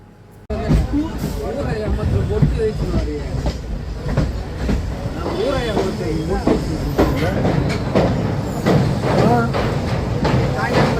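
Train passing through the Basin Bridge junction at its north entrance, a continuous rumbling roar with rhythmic clatter of wheels over rail joints, close and loud throughout, with people talking over it.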